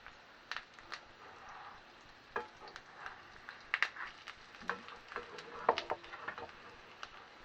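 Homemade Quorn mince burgers fry in a pan, giving a soft, steady crackling sizzle with scattered sharp pops and spits, fairly faint and close, with no talking.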